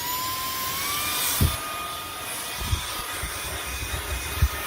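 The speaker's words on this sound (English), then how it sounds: "So let's go show the power of the vacuum." A houscly cordless handheld car vacuum running steadily with a constant high whine and airy hiss, with a few low thumps as it picks up debris from carpet.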